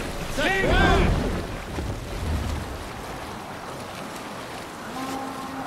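A Viking longship rows out to sea in Assassin's Creed Valhalla, with a steady wash of water and waves under shouting voices, and a low creaking rumble rising and fading.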